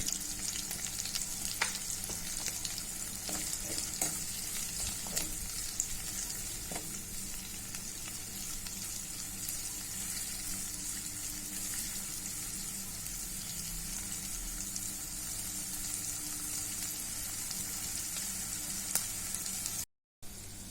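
Chopped onion sprinkled with salt fries in oil in a pan for a bean vegetable curry, a close, continuous crackling sizzle that runs steadily with occasional stirring taps and a brief dropout near the end.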